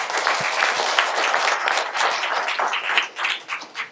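A round of applause from a seminar audience, dense close clapping from many hands that thins and turns uneven toward the end.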